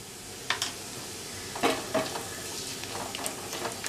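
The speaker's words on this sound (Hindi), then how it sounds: "जीरा को लाइट ब्राउन भून लेंगे" Cumin seeds and bay leaves fry in hot oil with a steady sizzle, broken by a few sharp crackles and spatula scrapes.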